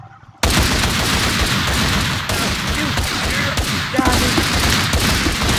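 Dense, continuous gunfire from a modded Minecraft shootout game, a loud, busy wall of overlapping shots with no clear breaks.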